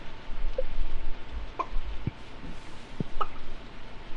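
A duck in the farming video game Stardew Valley gives three short, clipped quacks spaced about a second apart over a low background hum.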